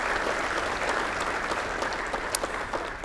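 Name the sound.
audience applause for sponsors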